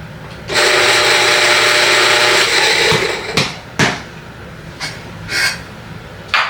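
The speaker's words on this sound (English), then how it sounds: "I'm going to throw a couple of beans in there to make sure I get all of those finer grinds out." A coffee grinder set to 15 purges a few beans, its motor whirring loud and close for about two and a half seconds before it stops, followed by several sharp knocks and taps.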